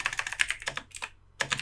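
Quick bursts of computer keyboard typing while code is being written, close and clear, in short rapid clusters separated by a brief pause.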